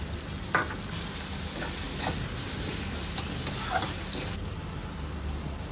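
Tomato, salt and mustard-ginger paste sizzle and crackle steadily in a hot pan, with brief scraping stirs punctuating the constant frying hiss, close and without talk.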